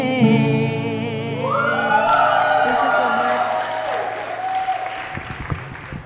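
Applause from the audience at a Pan-African youth forum builds in near the end, rising as the last notes of a sung performance fade away.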